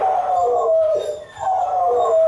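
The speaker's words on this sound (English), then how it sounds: "Definitely howling, he's barking, which is symptoms of separation anxiety." A dog left home alone with separation anxiety howls in long, wavering, mournful tones, with a brief dip before the howl rises again, close and loud with no speech.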